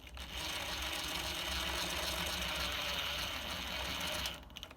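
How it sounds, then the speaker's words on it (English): A power driver spins screws into a replacement window lock on a double-hung tilt window, a steady whirring ratchet-like drone running close and continuous for about four seconds before stopping abruptly. "Now I can install the screws."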